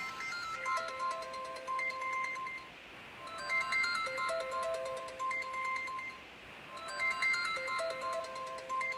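A telephone ringtone plays a repeating electronic melody in three loud, clear bursts with short pauses between them, close and alone, with no voices over it.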